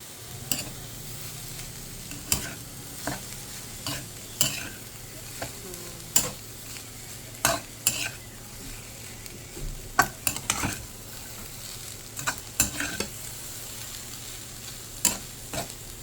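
Fried rice with egg and kangkong leaves sizzles in a pan while a utensil scrapes and stirs, producing a steady low frying hiss broken by sharp, irregular clicks of the spatula against the pan.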